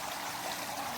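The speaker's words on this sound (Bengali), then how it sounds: "জল চলছে, ফিল্টার হচ্ছে, সবসময় জল" Water runs through a filter at a resort hotel, a steady, even rush and trickle that holds a constant level for the whole moment with no break.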